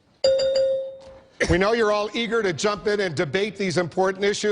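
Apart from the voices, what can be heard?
bell signalling a debate candidate's time is up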